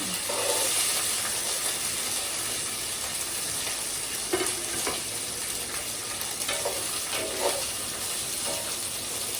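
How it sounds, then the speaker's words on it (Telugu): Cumin and tempering spices frying in hot oil for an eggplant and potato curry, a steady close sizzle with occasional stirring scrapes and soft clinks running throughout. "ఇంకా ఇప్పుడు జీలకర్ర అవి తాలింపు దినుసులు వేగినాయి కదా"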